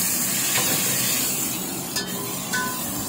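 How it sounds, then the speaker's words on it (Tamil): Tomatoes frying and being stirred in a pan with hot oil for egg biryani: a steady, close sizzle with scraping stir strokes, no talk. "தக்காளி நல்லா மசிற வரைக்கும் வேக வச்சுக்கோங்க."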